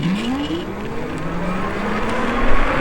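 A vehicle launches in a drag race on its rear motor only, a rising electric whine climbing steadily over road and wind noise, fairly loud throughout.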